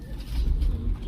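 Imported French meat pigeons cooing in transport crates, a low soft murmur of several birds close by, steady throughout with faint background rumble.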